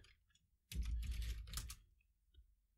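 A quick burst of computer keyboard typing as code is entered, a dense run of clicking keystrokes lasting about a second, close and clear, with a couple of lighter taps before and after and no speech.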